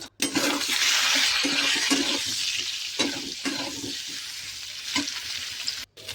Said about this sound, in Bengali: আমি কড়াই তেল গরম হলে আলুগুলোকে নুন হলুদ দিয়ে একটু ভেজে নেবো।